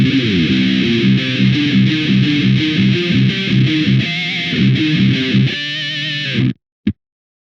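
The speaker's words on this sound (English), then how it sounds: "So if I plug my guitar in and play, it sounds like this." A heavily distorted electric guitar chugs through a dense, saturated riff, then cuts off abruptly, followed by a brief final stab.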